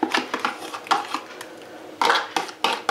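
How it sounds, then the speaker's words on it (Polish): Fork scraping and clinking against a bowl while making a well in flour for challah dough and pouring in the yeast starter, sharp irregular metallic taps, close and clear. "teraz po prostu robię sobie widelcem dziurkę i całość wlewam oczywiście"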